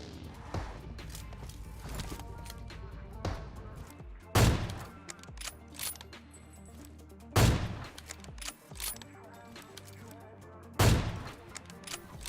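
Kar98 bolt-action rifle shots in a battle royale video game, a few loud sharp cracks spaced several seconds apart over a busy background of fainter distant gunfire and game noise.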